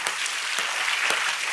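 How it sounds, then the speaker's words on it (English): A church congregation claps together in a brief, dense burst of many hands, with a few sharper individual claps standing out from the steady patter. "Would you clap your hands to the Lord once more?"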